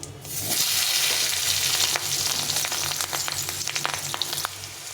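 Potatoes hit hot oil with a cracked dried chili and a bay leaf, bursting into a loud, dense sizzle up close that settles into steady crackling and spitting.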